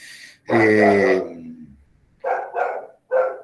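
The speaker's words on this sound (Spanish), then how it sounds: "Tengo acá uno ladrando" A dog barks close by: one long drawn-out bark, then a quick burst of three shorter yaps.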